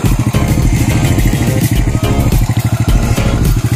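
A restored 1985 motorcycle engine running close by, loud and steady with a fast rhythmic mechanical chugging and clatter, with no talking.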